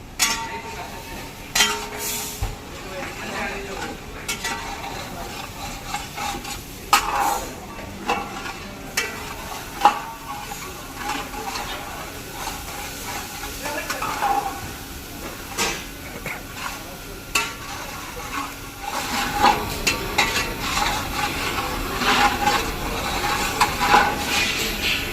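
Okra and potato pieces stirred and frying in a pan, a steady sizzle with scraping and occasional clinks of the utensil, while people talk in the background and the frying grows louder toward the end.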